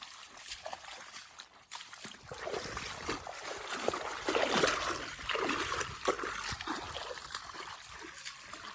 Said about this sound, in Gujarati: અલે હેડતું પાણી છે લ્યા